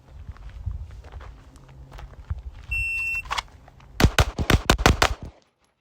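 A rapid string of six loud, sharp gunshots fired at a target on a range with a rifle or handgun fitted with a Holosun SCRS micro optic, cracking close and evenly spaced after a quiet stretch of shuffling and a brief electronic timer beep.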